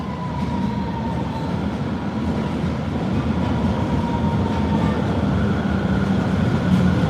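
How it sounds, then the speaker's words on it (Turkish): A tram rolls along its rails with a steady low rumble and faint rail whine, continuous throughout, with no talking. "Tramvay da ferah ve modern."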